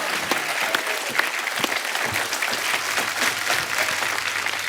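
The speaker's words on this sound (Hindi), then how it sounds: "तालियां बजती रहनी चाहिए आपकी।" Studio audience at a comedy television show applauding, a dense, steady wash of clapping that carries on without pause from start to finish.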